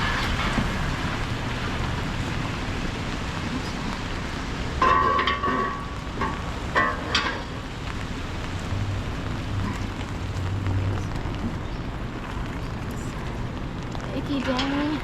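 Rain patters and hisses steadily around someone walking under an orange umbrella on a city street, with brief louder splashes and rustles partway through, fairly quiet overall.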